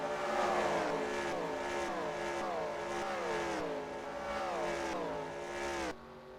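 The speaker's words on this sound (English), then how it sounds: "turn up your volume so you can hear the flybys better because they sound cool" Race cars at Phoenix roar past one after another, each flyby rising and falling in pitch as the engines sweep by loud and close, ending with an abrupt drop.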